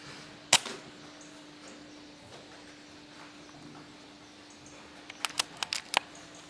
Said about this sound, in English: I'm kitted out with a very precise air rifle